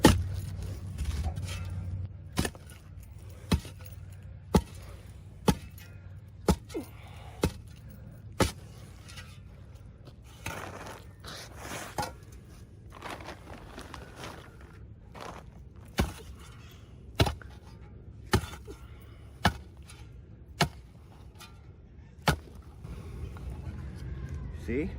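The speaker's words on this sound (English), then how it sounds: "We can cut these roots with a shovel." A shovel chops into tree roots in soil with sharp, regular thuds, roughly one per second for a stretch, then in irregular strikes, under intermittent talk.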